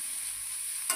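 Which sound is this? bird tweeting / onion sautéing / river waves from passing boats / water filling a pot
onion sautéing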